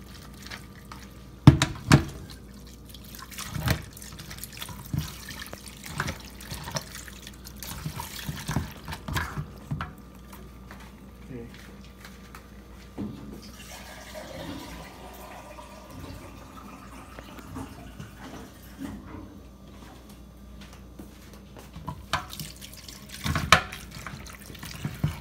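Bottled jug water is poured over cleaned shrimp to rinse them while making aguachile, giving a soft, continuous splash and trickle with scattered clinks and knocks of handling throughout.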